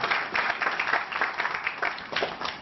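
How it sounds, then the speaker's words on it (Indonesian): An indoor audience at a marketing-plan presentation applauding for Bill and Bianca, a sustained crowd of hand claps at moderate level, dense and uneven, without talk. "Aplaus dulu dong buat Bill dan Bianca"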